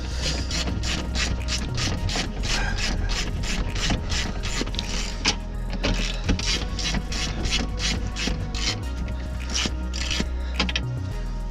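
A ratchet slackens a nut on the park brake of a Ford Transit Connect van, clicking in a steady, rapid run of close, loud pawl ratchets with a rubbing undertone throughout, no talk.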